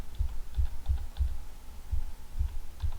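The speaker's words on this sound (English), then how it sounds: "Press shift, press plus on keyboard for changing the mode of this texture." Keys are pressed on a computer keyboard in a steady series of soft, low thumps about every third of a second, muffled and close, with no talk.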